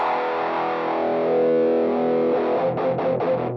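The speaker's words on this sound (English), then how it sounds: "we have all the low end chopped off, all the high end chopped off, and just this mid" Electric guitar played through a narrow midrange filter, with the lows and highs cut away for a thin, boxy tone. A sustained, slightly distorted chord rings steadily, then gives way to a few quick rhythmic strums near the end.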